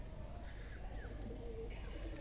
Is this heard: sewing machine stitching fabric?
no